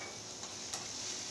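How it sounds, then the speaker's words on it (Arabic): Four or five garlic cloves frying in a small amount of oil in a pan for a tomato sauce, giving a soft, even sizzle with faint ticks, brief and alone. "اقلي فيها 4 بقى او 5 فصوص توم"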